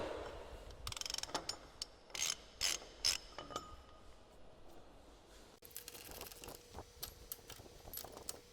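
A nut being turned down to draw a truck's conventional wheel-end hub, with its inner bearing and seal, onto the spindle: a close run of ratcheting clicks and metallic clinks in short bursts, then a quieter stretch of lighter mechanical rattling.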